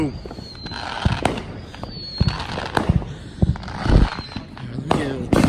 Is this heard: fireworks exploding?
yes